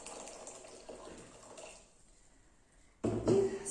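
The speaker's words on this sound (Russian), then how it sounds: "Заливаем, я залила кипяток" Boiling water from a kettle is poured into a pot for spiced tea with cinnamon. A steady liquid stream fills the pot near the mic, fading out partway, then a louder gush of pouring returns at the end.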